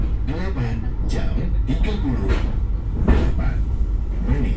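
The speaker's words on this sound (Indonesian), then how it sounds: "selamat datang di Kereta Api Jaka-Tingkir yang akan mengantarkan kita ke tujuan akhir stasiun Purwosari" An economy passenger train, the Jaka Tingkir, heard from onboard: a steady rumble with clattering and knocking under a voice talking, moderately loud throughout.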